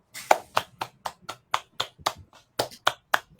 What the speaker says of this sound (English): That's applause for everybody.